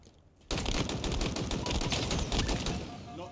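Rapid automatic gunfire from a Halo Infinite Team Slayer multiplayer match starts abruptly after a brief quiet lead-in and runs as a loud, continuous burst of shots to the end.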